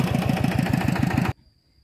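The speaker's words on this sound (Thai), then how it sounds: "มันยินเสียงรถไถ" A tractor engine runs close by with a steady, rumbling low chug for over a second, then cuts off abruptly into near silence.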